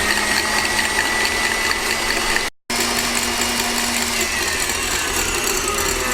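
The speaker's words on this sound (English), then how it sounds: "into a mixing bowl, add the egg whites and half of the sugar and start whisking it about a minute" An electric mixer whirs steadily while whisking egg whites and sugar in a mixing bowl, a loud continuous mechanical hum with a brief dropout midway.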